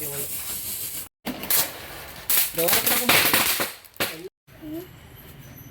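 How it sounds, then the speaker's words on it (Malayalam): A Christmas firecracker bursts nearby in a quick series of sharp cracks and hissing pops, with excited voices talking between the blasts. "എപ്പോ പൊട്ടുവേ"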